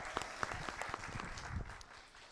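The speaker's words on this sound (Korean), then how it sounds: "다시 한번 썬킴 역사 스토리텔러에게 큰 박수 부탁드립니다." Audience applause at a live public-broadcast lecture concert on Expo history, a brief burst of clapping from a seated crowd that thins out over a couple of seconds, fairly faint and slightly distant.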